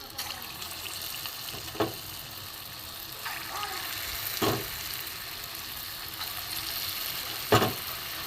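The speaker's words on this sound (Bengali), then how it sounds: "এই মুগ ডালের ফুলুলিগুলো আমি ভেজে নেব" Moong dal batter fritters fry in hot oil, seasoned only with fennel and salt, making a steady, fairly faint sizzle with a few sharp crackles and pops spread through it.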